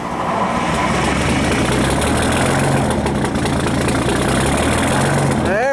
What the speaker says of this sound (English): There's a cold start everybody loves.